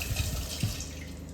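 Tap water runs steadily into a sink while something is rinsed under it, a soft, close splashing hiss with a couple of brief thumps and no speech.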